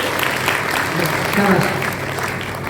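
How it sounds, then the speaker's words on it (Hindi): An audience at a girls' camp session applauds a young schoolgirl, loud sustained clapping filling the whole moment, with some voices mixed in beneath the claps. "अब एक बार जोरदार तालियां हम इस बच्ची के लिए बजाएंगे।"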